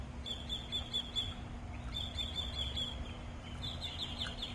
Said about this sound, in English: I don't know if you can hear the birds chirping and whatnot.